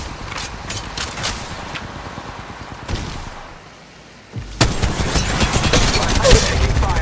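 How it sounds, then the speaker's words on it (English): Gunfire in the Apex Mobile battle royale game: rapid bursts of shots sound early, a brief lull follows, then dense, loud sustained firing takes over for the final seconds, with game voice lines mixed in. "Opening fire."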